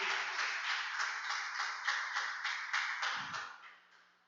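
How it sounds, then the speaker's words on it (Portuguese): A church congregation claps for the Lord during a worship service, a steady dense patter of many hands at moderate loudness that fades toward the end, with a brief low thump near the close. "Aplauda o Senhor, queridos, em nome de Jesus."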